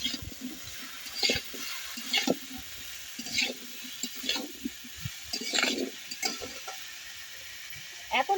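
Vegetables fry with turmeric in a pan for Bengali shukto, giving a soft, steady sizzle close by. Stirring scrapes and clatters come through in intermittent bursts while a person talks over the cooking.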